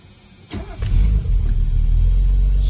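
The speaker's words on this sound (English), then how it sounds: "This is the 1984 280 SL doing a cold start video and walk around." A 1984 Mercedes 280 SL fires up on a cold start after a short crank, then settles into a steady, deep, even idle rumble heard up close, with no talking.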